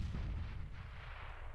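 A grenade blast in a Counter-Strike match: a dense, booming low rumble that fills the short moment and fades slowly, with no voices over it.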